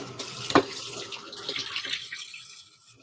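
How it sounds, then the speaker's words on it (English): A kitchen tap runs while hands are washed during home cooking of steak and roast vegetables, a steady splashing stream with a sharp knock near the start, fading gently toward the end. "Let me wash my hands real quick."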